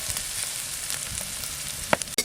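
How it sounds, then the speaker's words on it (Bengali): Carrot and capsicum for a cabbage Manchurian stir-fry in a hot pan, with a steady oily sizzle and a few sharp scrapes and clinks from stirring near the end. "একটু ভালো করে ভাজা হতে থাক"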